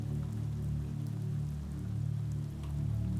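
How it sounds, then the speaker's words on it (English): Steady, gentle rain patters and thuds on a small canopy above a shop entrance, forming an even wash of sound against a low steady hum. "a gentle thud and patter of raindrops can be heard as the small canopy softens their fall"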